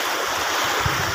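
Sea waves washing onto the shore near a lighthouse, with wind blowing across the coast, forming a steady broad roar of surf and wind noise close to the microphone, brief and unbroken, with no voices.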